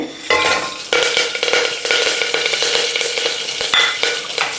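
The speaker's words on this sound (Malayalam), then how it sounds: "കറിവേപ്പിലയിൽ ചെറിയ വെള്ളം ഉണ്ടായിരുന്നതാണ് പൊട്ടിത്തെറിയുന്നത്" Damp curry leaves crackle and spit in hot oil with dried red chilies and urad dal, with loud sharp pops bursting over a dense sizzle and occasional stirring.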